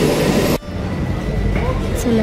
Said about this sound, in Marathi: परत आता एक इकडे आली ट्रेन आली लगेच